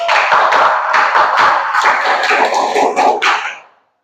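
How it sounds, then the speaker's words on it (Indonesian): Indonesian scout clap (tepuk pramuka) in a classroom: a group claps a single patterned round of quick rhythmic hand claps with short pauses, loud and near, stopping abruptly at the end. "Satu kali tepuk pramuka."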